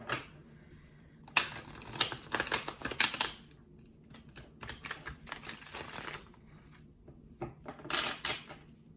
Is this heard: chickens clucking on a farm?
no